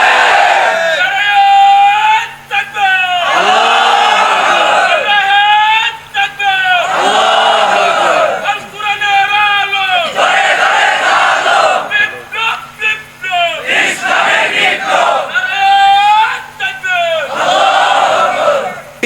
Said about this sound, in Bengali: এই যে আপনারা একটু স্লোগান দিলেন